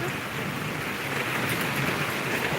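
Heavy rain pours down during a flood in a residential housing complex, a dense, loud, continuous hiss with no breaks and no talking.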